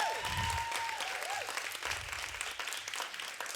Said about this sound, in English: You guys gotta give them a round of applause again for just doing that